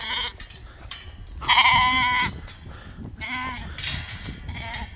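A lone sheep on a farm bleats loudly and close by, several wavering calls coming in uneven bursts with short pauses between them.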